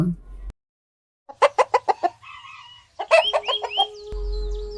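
Cartoon chickens kept by a poor village farmer cluck in a quick rhythmic run, then a rooster crows loudly and nearby, followed by more clucks and a drawn-out call.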